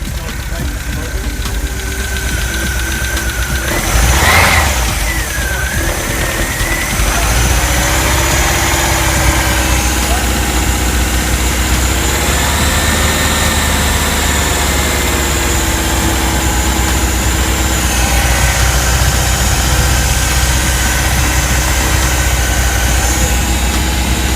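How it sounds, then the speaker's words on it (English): A Volkswagen Vanagon Westfalia engine with sooty exhaust, idling with a knocking rhythm, briefly revved at the throttle body near the start, then settling back to a steady, close idle while people talk nearby. "Do the throttle body, give it a rev."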